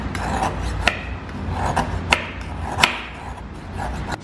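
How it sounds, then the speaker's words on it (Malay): A knife slicing a block of gula melaka palm sugar, giving a run of dry rasping cuts with a few sharp clicks of the blade against the board, close up and alone. "untuk gula melaka ni kita kena hiris-hiriskan macam ni"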